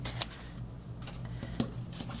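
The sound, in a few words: scissors cutting a paper piece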